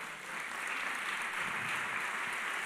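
A church congregation claps in steady, dense applause that fills the room evenly throughout, with no one speaking over it.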